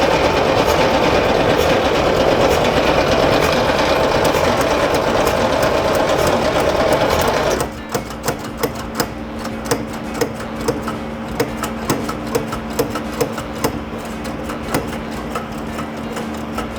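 A 1963 split-window Corvette engine cranks over with a loud, steady whirring churn, then cuts to rapid rhythmic clicking and ticking as the starter is released.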